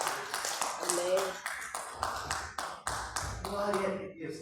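A church congregation claps in praise during worship, with rhythmic, steady handclaps running under singing or voices throughout.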